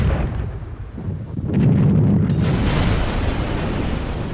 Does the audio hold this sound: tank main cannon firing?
yes